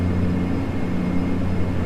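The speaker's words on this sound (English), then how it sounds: "The turbulence sound effect has now ended." Turbulence in a Dash 8 Q400 flight simulator: a loud, steady low rumble with droning engine hum and whirring, continuous throughout without talk.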